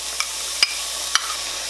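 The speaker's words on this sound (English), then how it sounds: "I'm just going to saute this down and have it ready to go into the dressing mixture" Garlic chives saute in a pan for chicken dressing, a steady close hiss of frying with two sharp clinks of a utensil against the pan.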